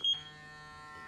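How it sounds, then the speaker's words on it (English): An electronic skincare device gives a loud, sharp beep at the start, followed by a sustained fainter electronic tone with a high ringing pitch. "Why do you beep so loud?"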